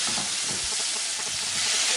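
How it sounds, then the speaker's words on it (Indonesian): Sliced onions and chilies sizzle and fry in a hot pan while a spoon stirs them, a steady loud hiss with soft scraping strokes throughout and no voices. "Kita masukkan bawang bombaynya, kita aduk-aduk."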